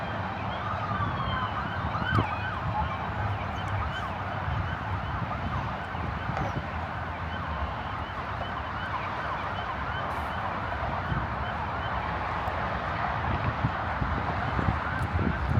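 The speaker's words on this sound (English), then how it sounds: "And that's an ambulance." An ambulance siren wails through dense, steady street traffic noise, blending with the rumble of vehicles rather than standing out sharply.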